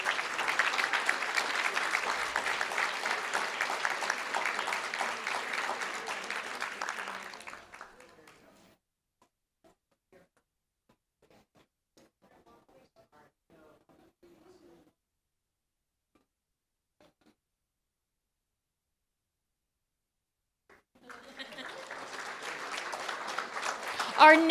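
School board meeting audience applauding honored students, a full room of steady clapping for several seconds that fades into near silence, then rises again toward the end.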